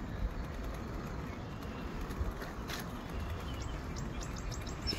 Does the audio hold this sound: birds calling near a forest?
yes